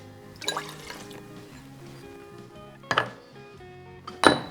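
Water is poured into a homemade BBQ sauce mixture of ketchup and rice wine vinegar, a few short quiet splashes and drips separated by pauses, close by.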